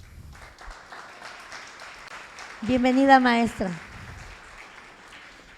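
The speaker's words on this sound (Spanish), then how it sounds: "Demos un aplauso a la maestra" A short burst of applause and clapping from an audience at a Spanish-language panel discussion on professional training and employment, rising briefly for about a second, with someone speaking before and after.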